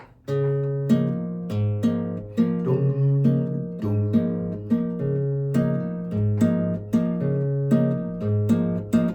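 Fingerpicked acoustic guitar playing a steady pattern, low bass notes alternating beneath repeated higher chords in an even, moderate rhythm, close and clear.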